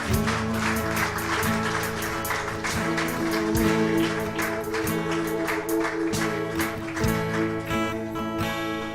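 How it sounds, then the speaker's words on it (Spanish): Congregation applauding at a church service in Ourense, a dense steady clatter of clapping lasting throughout, mixed with sustained music underneath. "Dale un aplauso si quieres a Jesús"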